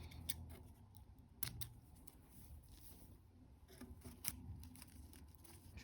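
Scissors snipping thread while sewing a beaded slipper motif, with a few faint, sharp cuts spread across an otherwise quiet stretch.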